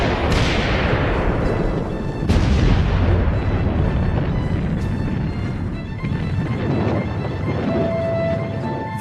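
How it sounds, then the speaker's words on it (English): World War I artillery shells bursting in a Marne battle scene, a dense run of loud booms and rumbling blasts overlapping one after another for several seconds with no pause. "French shells explode incessantly in front of us."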